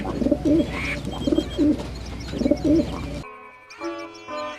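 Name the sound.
pigeon cooing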